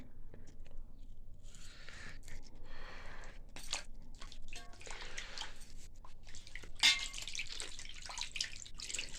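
Two kilograms of fish washed under running water: quiet, close splashing and dripping in uneven bursts, with wet handling noises and a brief louder splash.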